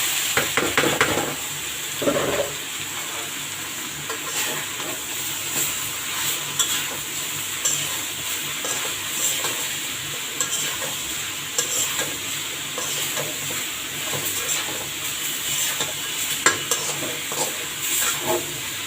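Leafy greens are tipped into a pan of cooked garlic, bursting into a loud sizzle that settles into a constant hiss, with frequent scraping and clinking of a spoon as the greens are stirred, close and unvoiced.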